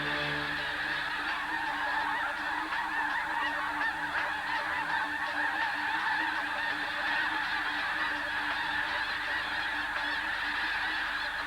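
A large flock of geese honks continuously over snowy prairie maize fields near Sand Lake in winter, a dense, steady chorus of overlapping calls heard at a distance.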